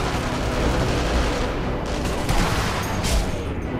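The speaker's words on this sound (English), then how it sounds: "we both shot that guy" Rifle fire in Sniper Elite V2, a dense, continuous barrage of loud gunshots and booming reports filling the scene with little break, with no talking over it.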